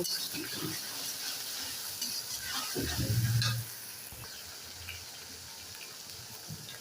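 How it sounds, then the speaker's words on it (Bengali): Dried chillies, bay leaves and ginger paste fry in hot oil with a continuous close sizzle, broken by a stirring scrape and a short louder burst midway. "এখন মশলাটা খুব ভালোভাবে কষে নেব"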